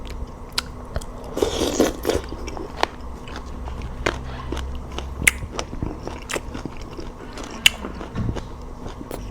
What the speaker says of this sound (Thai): มากินลาบหมกจองกัน